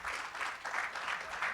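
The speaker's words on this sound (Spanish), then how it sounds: "Un aplauso para Marco, por favor." Audience applause at a naval industry panel on the Hidrovía waterway, a steady sustained clapping from a crowd lasting throughout, fairly even in level with slight swells.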